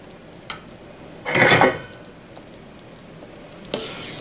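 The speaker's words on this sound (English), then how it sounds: "let's see if I can go ahead and spoon some into a bowl here" A metal spoon scrapes and clinks against a pot while ladling homemade beef stew with vegetables into a bowl, one dense scraping burst with a couple of faint clinks before and after, close and quiet.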